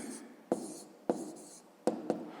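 Pen or pencil writing out the answer to a school math equation, a few short quiet strokes in separate bursts with soft scratching between, no voice.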